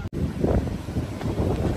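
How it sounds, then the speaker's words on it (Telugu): Sea breeze on a Goa beach lined with coconut palms blows as a steady, loud rumbling wind roar that buffets the microphone, constant throughout with no talk. "కొబ్బరి చెట్లు, గాలి, సముద్రం గాలి మొత్తం ఒప్పగా."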